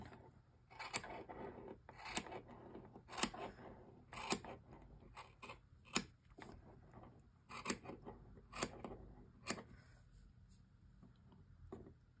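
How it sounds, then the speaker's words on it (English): Scissors trim the bottom of a heart-shaped pom tassel, giving a series of sharp, close snips spaced irregularly about a second apart over a soft background hiss, with no talking. "Now you can trim the bottom part of your tassel, whatever length you want."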